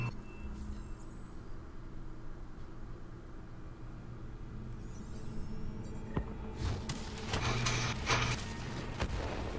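Explosions and gunfire burst out in Call of Duty Black Ops III after a long stretch of steady rumbling game ambience, with several sharp booms and crackling blasts piling up loudly in the last few seconds.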